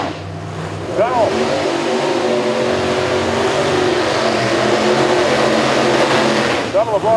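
Drag race cars, an alcohol-burning '69 Camaro and a big-block '70 Chevelle, roar with loud sustained engine noise at a No Mercy 9 radial event, a commentator's voice running over the din.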